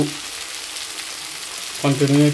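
Chicken curry frying in oil while being stirred: a steady soft sizzle throughout, with a voice starting to talk near the end.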